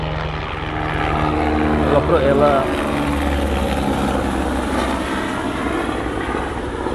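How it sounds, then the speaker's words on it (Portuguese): A helicopter passes overhead outdoors beside a garden, its steady rotor drone loud and continuous throughout, with a person talking over it. "o helicóptero passou, a gente fez muito barulho aqui."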